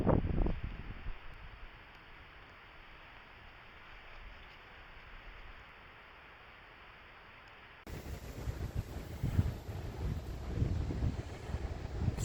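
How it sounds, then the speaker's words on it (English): Strong wind roars against the microphone during a night e-bike ride in Toronto amid freezing rain, steady and moderate at first, then louder and gustier toward the end. "As you can see, it's windy, very windy."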